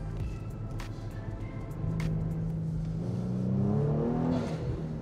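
A Kia Stinger AWD accelerates hard in second gear from about 3,000 RPM, its engine note rising in pitch and growing louder over a few seconds, heard from inside the car with no talking.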